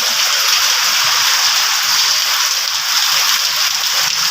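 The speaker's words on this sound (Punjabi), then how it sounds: "ਮੀਂਹ ਤਾਂ ਪੂਰੇ ਜ਼ੋਰਾਂ ਤੇ ਪਈ ਜਾਂਦਾ" Dense, steady hiss of heavy monsoon rain pouring continuously, loud and close, with no voices.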